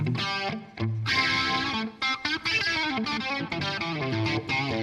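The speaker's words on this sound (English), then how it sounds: "It has a really great distortion that I use for almost like a clonish kind of mild distortion." Electric guitar through a mild, Klon-style distortion pedal, a crunchy overdrive playing chords and single notes, steady and up close with brief pauses between phrases.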